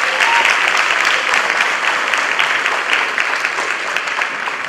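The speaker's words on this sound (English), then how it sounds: "round of applause." Heavy, sustained applause from the audience at a school jazz concert in Zimbabwe, dense and close, slowly easing off toward the end with no talk over it.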